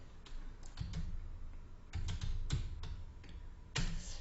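Fingers type on a computer keyboard in uneven bursts of close, clicky keystrokes with short pauses between, with no voice over them.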